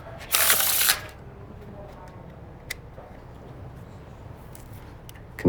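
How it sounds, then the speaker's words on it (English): A deck of playing cards riffled face up into face down gives one loud, dense burst of shuffling that lasts about half a second, followed by quiet room tone with a few faint clicks. "So you can see them get shuffled face up into face down."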